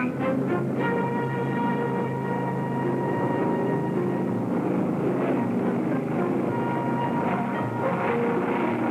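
An airliner taking off in the 1958 film Spacemaster X-7, a loud, steady engine roar with a sustained droning tone holding throughout.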